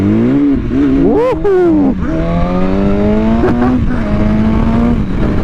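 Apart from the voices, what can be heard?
BMW S1000RR motorcycle accelerating and power sliding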